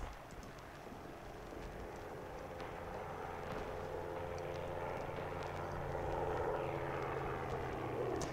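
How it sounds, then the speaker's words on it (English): A World War I era aircraft flying over a battlefield in the game Tannenberg, a steady droning propeller engine that swells slightly louder toward the end, with no talk. "it was a very beautiful shot watching the aircraft fly over"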